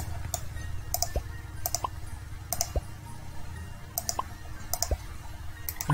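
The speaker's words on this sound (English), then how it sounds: "you're gonna hear a lot of clicking sounds" Mouse clicks while playing the Roblox pizza-place game, a steady series of light, sharp ticks spaced roughly half a second apart over a soft background, close and fairly quiet with no speech.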